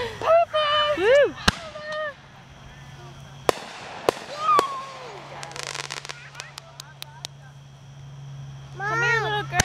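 Birthday fireworks bursting outdoors, several sharp distant bangs and crackles spread over several seconds, with excited voices and whistling chatter around them and a steady low hum beneath.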